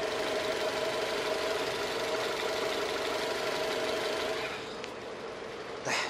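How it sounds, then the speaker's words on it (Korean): A steady, smooth gasoline engine idle from a 2019 Jeep Cherokee SUV, humming evenly at close range under the open hood, with a faint ticking texture and no voices. "바로 엔진 소리 한번 들려드릴게요."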